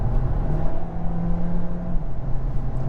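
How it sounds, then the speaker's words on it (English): A 2022 Volkswagen Taos SEL 4motion crossover with a 7-speed dual-clutch gearbox accelerating for a pass on the highway, a steady engine drone and road rumble heard from inside the cabin, continuous with no talking. "See the 7-speed dual clutch kicks down with no problem at all."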